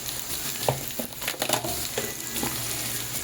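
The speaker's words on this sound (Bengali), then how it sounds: "আলুগুলোকে ভেজে নেব পুরো লাল করে ভাজবো না হালকা একটু কালার ধরবে ততক্ষণ ভেজে নেব" Salted potato pieces fry in hot oil over a gas flame for a soya potato curry, a steady close sizzle with soft scraping stirs and spatters, and no talking.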